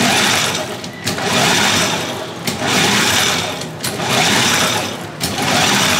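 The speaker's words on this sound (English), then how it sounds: "let's see how much power it draws from the hand crank" A hand crank generator is cranked under a roughly 50-watt load, producing a loud, continuous mechanical whirr that dips briefly about every second and a half in a steady rhythm.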